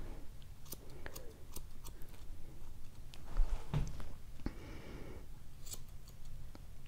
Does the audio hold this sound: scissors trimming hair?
yes